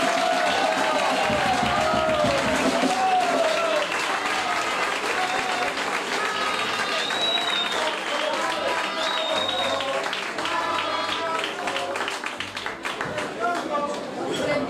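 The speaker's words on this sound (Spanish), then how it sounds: "Un fuerte aplauso." Audience applause for a winner at a literary prize ceremony: sustained, dense clapping from a large crowd filling the room for the whole stretch, loud and even, with some murmuring voices mixed in.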